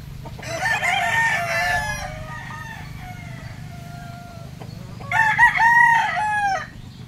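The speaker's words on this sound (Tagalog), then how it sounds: "tiktilaok ng mga manok ang unang bubungad sa iyo sa maagang maaga pa" Several roosters crow at early morning in a seaside countryside village, two long close cock-a-doodle-doos separated by softer clucking and distant crowing over a steady low rumble.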